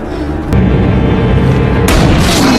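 A gun is fired at a zombie in a dark, tense film scene, giving a sustained loud boom and rumble, with a sharp burst at the start and another heavy blast near the end.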